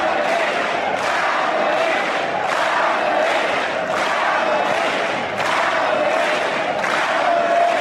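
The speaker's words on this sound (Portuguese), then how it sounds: "o Kobayashi fazia a festa na torcida local que gritava Kamui" A local Japanese crowd at the 2012 Japanese Grand Prix keeps up a rhythmic chant of Kamui for driver Kobayashi, with repeated surges every second or so. The sound is a steady, dense mass of many voices, heard from a distance.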